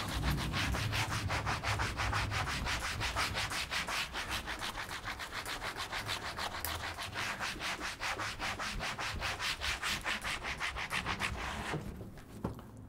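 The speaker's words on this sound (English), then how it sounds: "Then I like to kind of buff everything with a nice clean cloth." A clean cloth buffing a wooden Odin 8 guitar fretboard, making quick, even rubbing strokes in a steady rhythm, close and fairly quiet, which fade out at the end.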